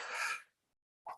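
A single sneeze in a courtroom bursts out loudly and close, followed after a short silence by a brief breathy sound.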